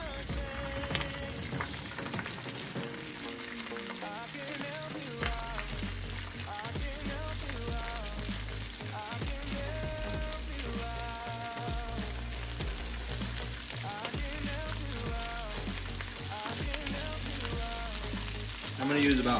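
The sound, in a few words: rice frying in oil in a pan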